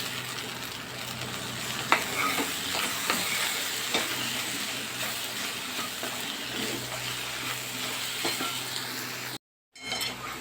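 Okra curry being stirred in a pan after garlic paste, salt, chili and green chilies go in, with soft sizzling and repeated scraping and clinking of the spoon, briefly cut silent near the end.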